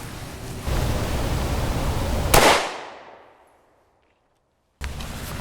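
A single CZ52 pistol shot, a 7.62x25 round fired close into a Level IIIA hybrid armor vest: one sharp, loud report with a decaying tail over steady background hiss, followed by a brief silence.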